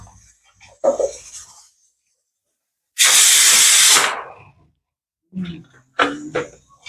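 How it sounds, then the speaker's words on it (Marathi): A kitchen mixer grinder whirs loudly for about one second while grinding garlic, ginger, coriander and coconut into a paste, with short bursts of talk before and after it. "आता ही आपण मिक्सरमध्ये बारीक करून घेऊ छानपैकी आता आपण खोबरं घेऊ वाटायला"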